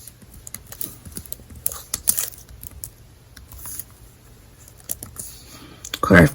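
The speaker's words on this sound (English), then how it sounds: "So I'm gonna type my name" Someone types on a computer keyboard: light, uneven key clicks and taps close by, one short flurry of keystrokes, a louder clatter at the end, and a faint voice in the background.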